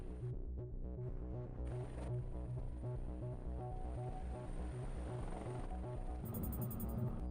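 Helicopters in a zombie outbreak strategy game give a rhythmic, throbbing rotor pulse over a low hum, steady and moderately quiet across the whole stretch, with a brief electronic tone near the end and no speech.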